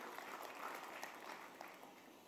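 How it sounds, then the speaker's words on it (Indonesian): A church congregation claps during a sermon, a faint, distant patter of many hands blending into a soft continuous wash with a few louder claps poking through. "Yang setuju berikan tepuk tangan yang meriah buat Tuhan."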